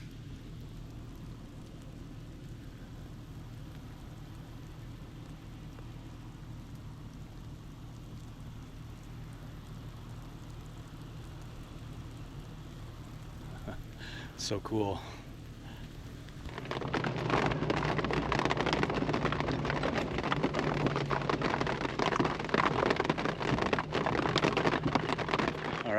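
Rain falls in a forest during a monsoon in a soft, steady patter that swells into a louder, denser downpour partway through, with a brief spoken remark over it.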